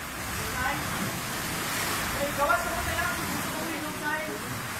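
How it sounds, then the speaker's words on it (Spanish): Water in a swimming pool in the Philippines sloshes and surges like stormy surf during the 2019 earthquake, a continuous rushing wash with faint splashes and wind noise. "una piscina en Filipinas se convirtió en un pequeño océano tormentoso"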